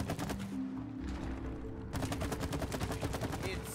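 Rapid bursts of gunfire from the video game It Takes Two, with busy game effects and music, the shots growing denser and louder in the second half.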